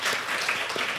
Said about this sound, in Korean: 우리 환영하는 박수 한번 크게 주시면 좋겠습니다